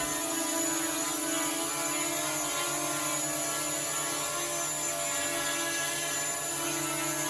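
An LYZRC L900 Pro quadcopter drone hovers indoors over plain carpet, giving a constant high-pitched whirring buzz of spinning propellers, near and steady throughout with no voices.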